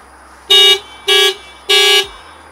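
Aftermarket Hella Supertones horn fitted to a widebody Mitsubishi Lancer Evo X, sounding three loud, bright, harmonic honks of about a quarter-second each, evenly spaced, close by with only light background noise between blasts.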